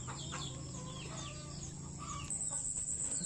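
Native chickens clucking and squawking nearby in a busy chorus, with a steady low hum underneath and no talking.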